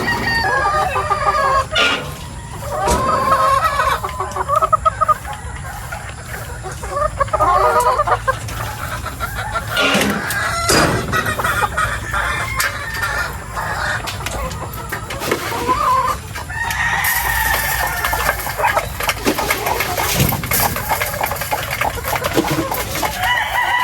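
Gamefowl chickens, including sweater, bulik, SBR and white kelso roosters, crow loudly and repeatedly at close range, with clucking and scattered clatter and rustling between the calls.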